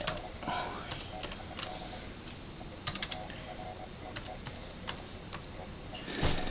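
Rapid tapping on a Lenovo ThinkPad T440p laptop keyboard, soft irregular key clicks with a few louder strikes, close by over a faint background hiss.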